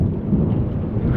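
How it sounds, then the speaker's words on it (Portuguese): Deep thunder rumbles steadily during heavy rain at a rural farmstead, a low continuous roll with the hiss of rain mixed in, fairly loud and with no voices. "Os trovão, né?"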